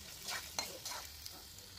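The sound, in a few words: potato pieces frying in oil with spices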